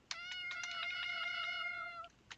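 A cat in the game Greyfox lets out a drawn-out, high, tonal meow lasting about two seconds, starting with a few choppy notes, close and clear with nothing else around it.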